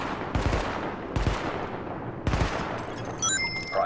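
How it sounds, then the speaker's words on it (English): Gunfire on a weapon test range in The Division, heard as three distinct loud shot bursts spaced about a second apart, each with a sharp attack and a decaying tail, followed by a brief electronic tone. "Open fire at the highlighted targets."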